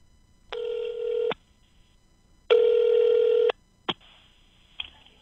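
Telephone ringback tones sound on an outgoing call: two long electronic rings separated by a pause, followed by a short click and a fainter tone, clear against a quiet background.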